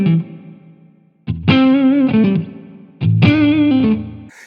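Electric guitar through the Spring 63 spring reverb on a Line 6 HX Stomp: two distorted strummed phrases ring out, each trailing a splashy, springy wash that decays between them.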